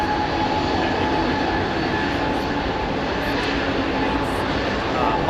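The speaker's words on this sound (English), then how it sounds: "So that's the LEAP engine, LEAP 1A." Airbus Beluga XL with LEAP-1A jet engines departing Heathrow Airport: a loud, steady broadband roar of jet engines running continuously throughout, with a faint voice occasionally over it.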